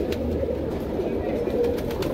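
Sharangpuri pigeons coo in a low, continuous murmur close by, with a voice speaking over the cooing.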